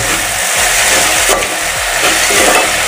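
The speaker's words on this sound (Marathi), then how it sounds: "आता यामध्ये हे मीठ मी टाकतोय, चवीपुरतं मीठ आत्ताच मी टाकून घेतोय।" Salt goes into onion and potato frying in a pot for spicy khichdi, under a loud, dense, continuous sizzle with rhythmic scraping strokes of stirring close by.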